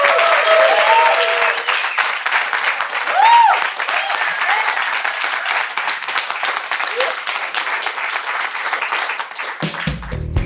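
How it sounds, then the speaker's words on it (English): Loud, sustained applause from a live audience honoring a film and TV music panel, dense clapping with a few whoops rising above it, tapering off abruptly near the end. "let's give a huge round of applause for our guest of panelists"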